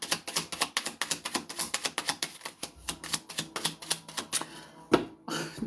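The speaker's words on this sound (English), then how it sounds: "As I'm shuffling for your card." A deck of cards being shuffled gives a rapid series of crisp, evenly spaced riffling clicks and flicks, fairly close and quiet, with a brief pause near the end before resuming.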